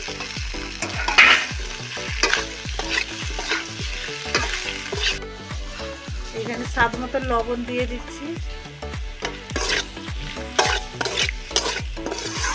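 Boiled potatoes stirred and fried in a pan for aloo dum, the spatula scraping in a steady rhythm over a continuous sizzle, close and fairly loud while someone talks over it.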